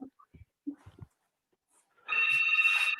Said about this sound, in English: I just need to cut the call that's ringing on the other end.